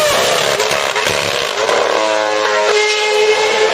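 A 2011 Red Bull Formula 1 car with an exhaust-blown diffuser passes loud and close, its engine screaming and rasping at high revs and then shifting and falling in pitch toward the end, with no talk.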